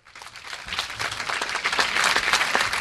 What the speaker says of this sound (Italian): accompagnate dall'applauso ancora del nostro teatro